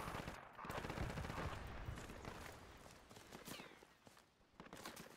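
Dense gunfire and bursts from a Battlefield 2 Project Reality battle at Brécourt Manor, sustained and loud, easing slightly toward the end.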